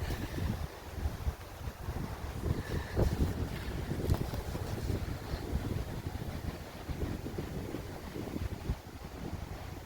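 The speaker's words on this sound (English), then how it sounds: "sorry for the wind" Steady, gusty wind buffeting the microphone outdoors, a constant low rumble with rising and falling bursts and no voices.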